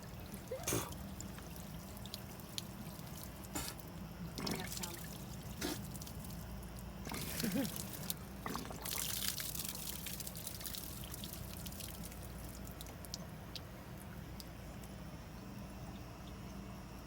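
Water pouring into an RV water heater tank, a faint steady trickle and splash with occasional drips and knocks, heard close and quietly.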